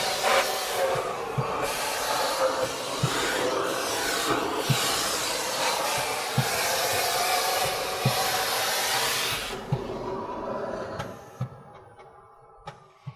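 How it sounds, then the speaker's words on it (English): A vacuum cleaner roars steadily with a rough, rasping suction noise and periodic clicks while cleaning around the print bed of a Konica Minolta ProJet 660 3D printer, then cuts off, leaving a few scattered knocks and scrapes. "And then start vacuuming around the print bed."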